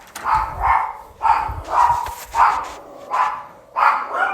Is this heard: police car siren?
no